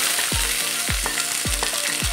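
Coarsely cut onion fries in about half a cup of oil in a kadai, a loud, close, continuous sizzle broken by four or five evenly spaced knocks of a spoon stirring against the pan, with no talking.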